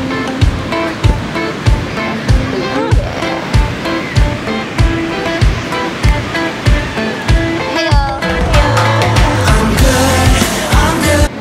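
Ocean waves surge at a beach in a loud, continuous wash, overlaid with a rhythmic thumping beat and what sounds like music.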